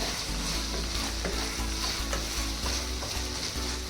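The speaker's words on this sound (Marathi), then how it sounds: "यामध्ये आपण ही जी शिमला मिरच थोडी ठेवलेली आहे ती टाकूया आणि ही त्यात शिजून घेऊया या मसाल्यात" Capsicum stirred into pav bhaji masala in a hot pan, with a steady sizzle and frying hiss throughout and repeated spatula scrapes and clacks close by, no voices.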